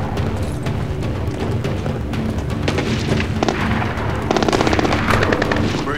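Sustained gunfire in the video game Splinter Cell: Blacklist, a dense, loud barrage of automatic shots with booming impacts that intensifies toward the end, without any talk.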